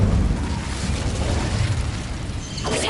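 An Incendio fire spell in the game Hogwarts Legacy on PS4, a loud roaring burst of flame with rumbling low crackle that sustains throughout, ending in a brighter flare.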